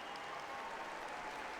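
A crowd at Paralympic track cycling in a velodrome applauds gold medalists of the women's B 1,000 metre time trial, a steady, faint, distant wash of clapping with no pauses.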